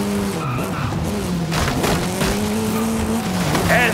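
Race cars skid at the start of a Forza Horizon 5 race, tires squealing loudly over a steady roar of engines that holds close and continuous throughout.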